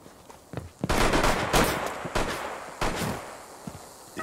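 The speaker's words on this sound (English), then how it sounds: "Gunshots rang out." Loud bursts of gunfire in Rainbow Six Siege crack out in quick clusters, some single shots and some rapid volleys, close and harsh with brief gaps between.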